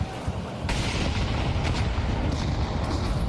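A grenade blast in Counter-Strike 2 at a Grand Paris esports event: a loud, sudden boom that rolls into a sustained rumbling roar of gunfire-like noise, close and dense, with no one speaking over it.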